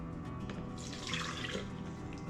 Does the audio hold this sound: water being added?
yes